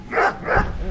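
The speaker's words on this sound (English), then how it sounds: "Look at the cute little dog." A dog gives two quick, close barks in a row, short and sharp, with nothing else around them.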